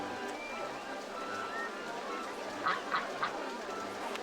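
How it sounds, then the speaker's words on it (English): Ducks in RollerCoaster Tycoon 2 give three short quacks in quick succession, moderately loud over a steady ambient park background. "They quack."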